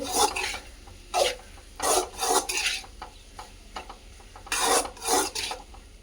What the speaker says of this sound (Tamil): சாதம் போட்டு நல்லா கலரி விட்டாச்சு